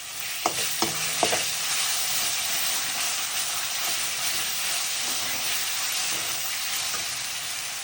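Mashed roasted eggplant sizzles steadily in a hot pan with green chillies and salt, a continuous frying hiss with a few sharp stirring clinks near the start, close and fairly loud, no voices.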